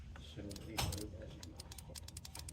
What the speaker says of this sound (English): we're gonna power the solenoid. You should be able to hear it clicking.